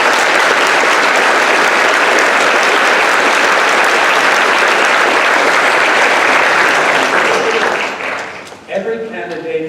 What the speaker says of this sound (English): I'm going to invite you to greet them with applause